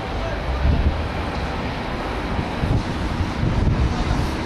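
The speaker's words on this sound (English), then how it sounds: "Really cold and windy." Strong wind roars and buffets the microphone in a constant low rumble, gusting slightly louder now and then.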